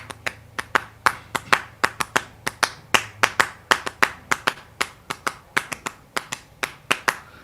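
Sharp, crisp hand claps ring out alone in a repeating rhythmic pattern, with irregular groupings of close, loud strikes and brief gaps between them.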